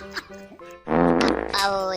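A loud, drawn-out fart rumbles for about a second, buzzing and sputtering, following some quieter talk.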